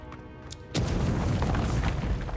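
A grenade blast in the fantasy game Avowed: a quiet lead-in, then a sudden loud boom that rolls on as a sustained, rumbling roar for the rest of the moment, with no voices.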